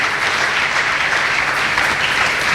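A congregation at a religious gathering claps steadily and densely for a few seconds, applauding in praise of the Lord, a close wash of clapping with no voices on top.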